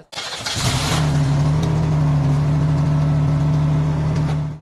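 A heavy truck (tractomula) in a Grand Prix truck race accelerates through the final slalom, a loud steady engine roar that starts abruptly and holds strong for several seconds.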